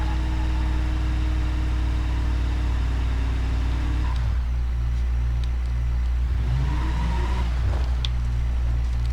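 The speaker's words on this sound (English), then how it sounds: "Let's just sit here and rev it." A Ford Crown Victoria engine from the BeamNG.Drive game idles with a steady hum. The pitch then climbs and drops in a couple of loud, close revs, with no one speaking.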